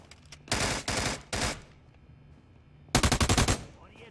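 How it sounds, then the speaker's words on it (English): Automatic gunfire in the shooter America's Army during a hospital map fight: a burst of rapid shots, a pause, then another fast rattling burst, fairly close, with a faint voice nearby. "There's some fire going on around here."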